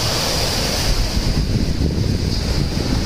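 Surf washes continuously onto a boulder-strewn beach in South India, forming a steady, loud roar. Wind buffets the microphone from start to finish.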